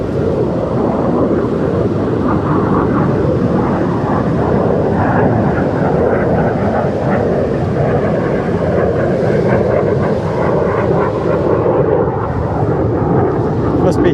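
RAF military jet flying over a beach on the Moray coast at Lossiemouth: a loud, continuous broadband roar that holds steady throughout, with wind buffeting the microphone.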